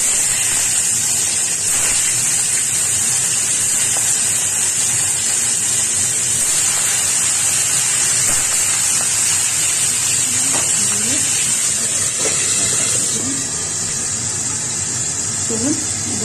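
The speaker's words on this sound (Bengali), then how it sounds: "চলুন এই কড়াইয়ে একটু তেল দিয়ে কড়ার তেলে আগে মাছগুলো ভেজে নিই।" Fish sizzle in hot oil in a wok, a continuous bright hiss and spatter that stays loud and close the whole time, with a voice talking faintly underneath.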